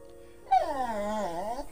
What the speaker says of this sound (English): My dog's barking at me.